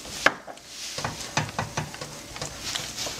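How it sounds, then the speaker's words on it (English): Burro bananas and green onions cooking in a pan over medium heat, with a soft sizzle and a series of sharp scraping and stirring clicks at an uneven pace. "Now we're going to cook the burro bananas on a medium heat."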